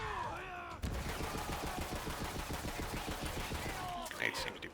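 Grenade blasts and rapid gunfire erupt in Borderlands 3 gameplay, a loud, dense burst of explosions and shots sustained for several seconds under a continuous game soundtrack, with a voice briefly heard at the start.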